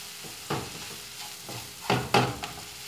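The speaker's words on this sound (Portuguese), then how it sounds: "Gosto de fritar assim, porque aí solta mais o sabor, o aroma." Garlic with turmeric frying in a pan, stirred now and then: a low sizzle under several short scraping strokes, two louder ones close together near the end.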